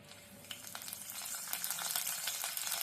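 Curry leaves drop into a tablespoon of hot oil for a yogurt kadhi tempering, making a soft, close sizzle with light crackles and scraping stirs over a short stretch.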